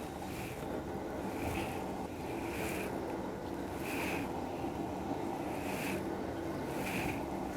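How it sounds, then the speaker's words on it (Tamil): Water heats in a steamer pot lined with leaves for lentil kolukattai dumplings, giving a continuous low rushing hiss with soft bubbling surges roughly every second, steady and close, with no talk. "இப்போ தண்ணி சூடாகிட்டுருக்கு."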